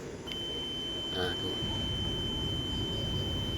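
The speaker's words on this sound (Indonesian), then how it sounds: "Kalau saya pakaiin speaker, jadinya ada bunyi beep." A single short high beep comes from the speaker of a keyless engine start-stop button fitted to a motorbike. It sounds once, faint and thin, at the start, against low background noise, followed by a brief spoken word.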